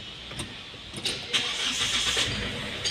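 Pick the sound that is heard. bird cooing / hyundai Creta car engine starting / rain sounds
hyundai Creta car engine starting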